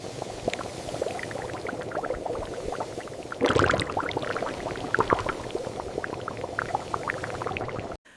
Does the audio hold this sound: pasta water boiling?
yes